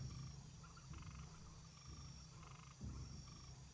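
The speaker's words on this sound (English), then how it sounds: "The chirping crickets are a tell." Night ambience from the Tidehunters map in Warcraft III, with a steady bed of chirping crickets and frog-like croaks. Soft chirp bursts repeat in pulses over a constant low hum, with no voices.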